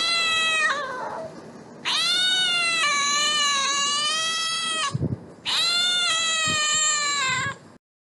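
Cat meowing loudly and close, in two long drawn-out calls with a shorter cry before them, each call holding steady and then breaking off, with short pauses between.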